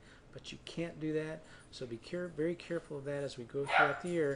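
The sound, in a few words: dog barking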